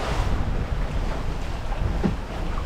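A sailboat runs at sea off the Great Barrier Reef in a steady breeze, with a continuous soft rush of wind and water washing along the hull and no voices.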